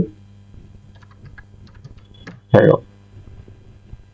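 Keys tapped on a computer keyboard while filling in a Microsoft Access data entry form, a sparse run of soft, close clicks with a brief louder burst partway through, a voice talking faintly nearby.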